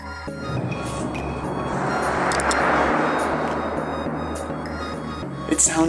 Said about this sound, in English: It sounds so crazy when cars pass through here.